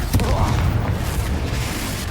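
Deep booming blasts from the Confringo spell in the video game Hogwarts Legacy rumble continuously through a short, loud stretch of spell combat, with no clear break between impacts.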